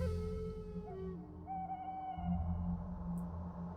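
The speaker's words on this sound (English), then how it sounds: "Some type of owl." An owl hoots in the eerie night ambience of the game Barrow Hill: The Dark Path, a long, faint tonal call sliding over a steady low drone, with no voices.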